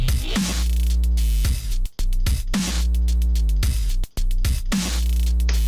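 Three heavy, distorted growl/Reese-style synth bass notes with a snarling growl, processed with effects and modulation, each held and then cut off sharply, loud and unaccompanied.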